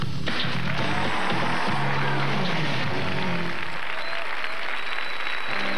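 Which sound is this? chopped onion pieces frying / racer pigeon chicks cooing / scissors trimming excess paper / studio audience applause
studio audience applause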